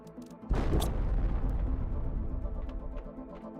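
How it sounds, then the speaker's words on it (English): Explosives going off in the Planet Crafter video game: a single loud, close blast that hits suddenly, then a long rumbling decay fading over several seconds. "it definitely heard that explosion go off"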